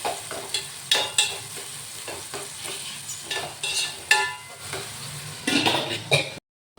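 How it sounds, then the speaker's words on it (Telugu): Tomato fries in a pan for an Andhra-style mango fish curry, giving a soft continuous sizzle marked by regular bursts of stirring and scraping, close and moderately quiet, ending abruptly. "టమోటా కూడా వేగాలి కొంచెం."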